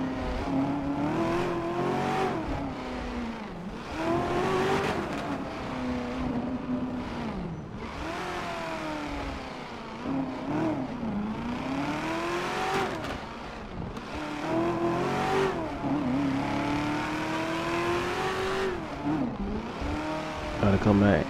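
A car engine in GTA V revving and driving, with the pitch rising and falling over and over as the car speeds up and shifts. Someone talks steadily over the engine throughout.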